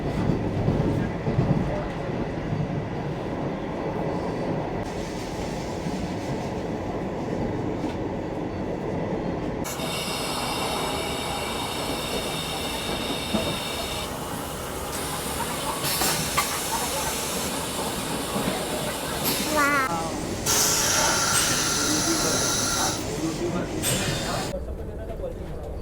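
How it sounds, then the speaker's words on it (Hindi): A Vande Bharat express train runs at speed in the evening, a continuous rolling rumble and hiss of wheels on rails under steady talk, with brighter metallic squeals and rattles in the second half. "वंदे भारत अपनी रफ्तार से अपने गंतव्य तक पहुंचने की राह में है।"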